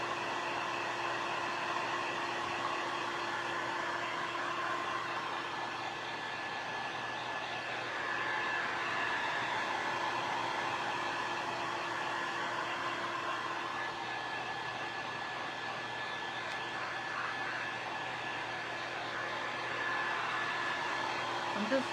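A hair dryer runs steadily for about twenty seconds on a handmade DIY Christmas wreath, a close, continuous loud whir with a faint tonal hum and no talking over it.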